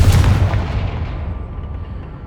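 A Confringo fire spell blast from Hogwarts Legacy bursts out as a loud, booming explosion at the start, then rumbles and fades over about two seconds.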